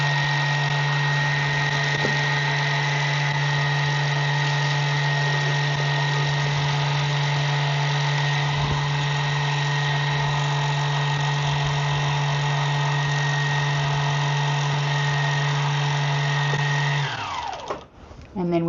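A Juki TL-18 sewing machine winding a bobbin, its motor giving a steady, loud whir that runs evenly and then spins down near the end.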